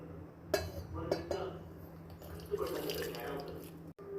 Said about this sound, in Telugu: ఇప్పుడు దీనిలో వాటర్ ఆ గిన్నెలోకి వంచుకుంటాం